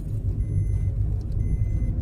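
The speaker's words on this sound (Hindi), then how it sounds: "मैं गाड़ी चला रहा हूँ अभी।" A car drives along a mountain road, its engine and tyre noise forming a steady, close low rumble throughout with no talk.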